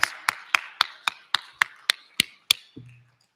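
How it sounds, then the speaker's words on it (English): About ten slow, evenly spaced claps ring out sharply in a quiet hall, as though a single pair of hands beats out the round of applause for parents, relatives and teachers at a regional science and engineering fair, ending in a brief low thud. "Now that you're done applauding"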